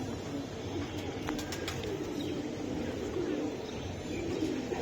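Pigeons coo in a loft of Giribaz high-flyer birds, low soft calls rolling on and off over a steady background, with a few faint chirps and a voice murmuring underneath.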